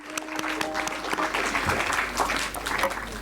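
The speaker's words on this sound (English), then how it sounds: "A big round of applause for all our Asian language performers." Audience applauding stage performers at an annual school language festival, a moderate stretch of scattered clapping with some crowd noise and a faint voice underneath.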